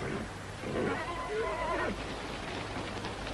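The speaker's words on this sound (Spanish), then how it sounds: "Los caballos están sufriendo, capitán." Horses neighing in an Old West setting with a prison wagon, a few whinnies rising and falling mid-clip over a rain-like background hiss, moderately near, with voices around.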